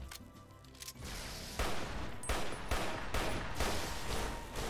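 Gunfire in the video game Fallout New Vegas during a boss fight, several loud sharp shots in an irregular series, each burst ringing out briefly, with no speech over them.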